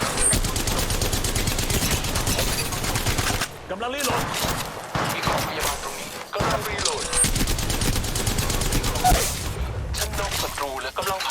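Gunfire in the mobile battle royale game Apex Legends Mobile: sustained rapid automatic bursts, loud and close, with brief pauses between volleys and a game announcer voice talking over parts of it.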